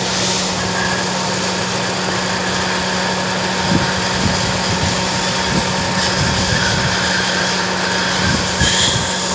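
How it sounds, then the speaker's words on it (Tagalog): A Toyota Altis engine with a faulty ignition coil idles with a steady, rough drone and faint uneven shudders, low on power, close and continuous throughout. "talagang nanginginig yung makina niya"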